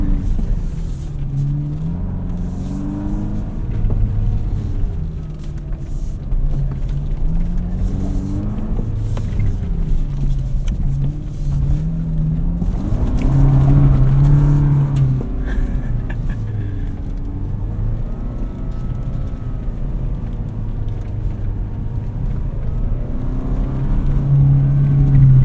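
2025 Toyota 4Runner TRD Pro exhaust droning while driving off road, a steady low rumble with shifting engine tones and occasional rises in revs, heard from inside the cabin.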